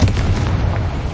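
Confringo fire spell explosion in the Hogwarts Legacy video game, a dense low boom rumbling steadily for about a second with no speech.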